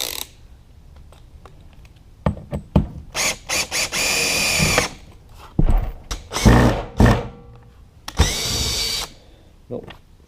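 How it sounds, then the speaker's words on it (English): A power drill whirs in several short bursts, driving a self-tapping screw into aluminum RV roofing with clunks and rattles between, loud and close. "crank up the power on the drill so I can get that self-tapper to go through the aluminum"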